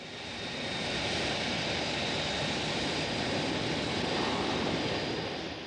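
Boeing 747 jet engines give a steady, broad roaring rush that swells in and holds loud and continuous throughout, with no voices.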